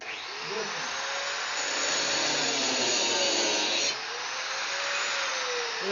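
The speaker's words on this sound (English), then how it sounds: "I had to grind the nail off" A grinder whines steadily as it cuts off a bent nail on a bale roller bushing during farm repairs, a loud continuous high-pitched grind that dips briefly near the end.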